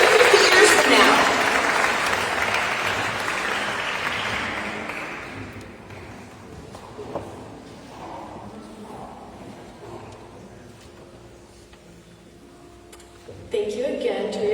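An audience applauds after a speech, the clapping strong at first and then thinning and fading away, followed by quieter room sound and a brief voice near the end.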